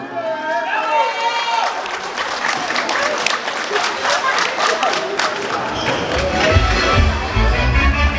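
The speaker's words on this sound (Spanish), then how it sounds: "Fuerte los aplausos, por favor." Wedding guests applaud after a toast to the couple at a celebration in Ameyaltepec, a strong burst of clapping with some cheering and voices mixed in, swelling slightly toward the end.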